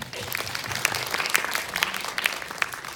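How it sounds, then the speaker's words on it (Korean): Audience applause at a film screening Q&A in a Seoul cinema, steady dense clapping from a crowd throughout, fairly close and full. "박수."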